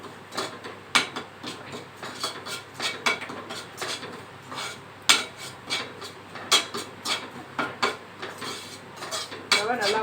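Rava (semolina) dry-roasting on high flame in a pan for mango kesari, with a spoon scraping and clinking against the metal in quick, irregular strokes, close and steady with no talking.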